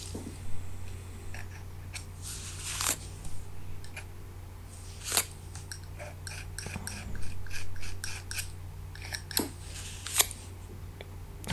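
Hand sanding of filler over holes during a boxing club building restoration, a quiet series of scratchy rasping strokes in irregular bursts, with no talking.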